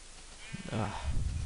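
A sheep in the video game Minecraft gives a short, blocky bleat that rises through the middle of the moment, set against ongoing game noise and a faint voice.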